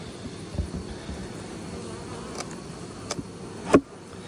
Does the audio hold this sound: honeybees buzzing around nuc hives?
yes